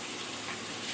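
Water running steadily while a cooking area is washed down with bleach water, a short, even gushing hiss with no other sounds.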